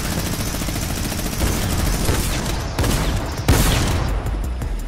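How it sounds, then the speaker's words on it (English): Rapid bursts of shotgun fire in the Fortnite video game, with several loud, close blasts in quick succession and no talking. "Shotgun to the face"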